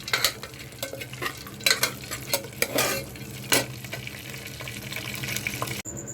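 Pulao ingredients with cashews and raisins are stirred in a frying pan, the soft sizzle carrying bursts of scraping and clatter as a spoon works through them.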